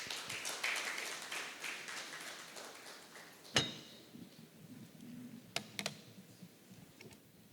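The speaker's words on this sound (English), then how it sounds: "Big round of applause." A conference audience applauds, the clapping fading away over the first few seconds, followed by a sharp knock and a few scattered light clicks in a quiet room.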